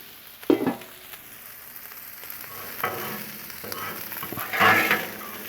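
Fried potatoes and sausage are stirred on a Blackstone griddle, giving a steady low sizzle broken by a few sharp scraping strokes, one near the start and a louder one toward the end, with no talking.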